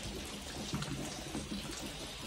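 Steady rain falling outdoors, a dense, faint, even patter of drops with no pauses.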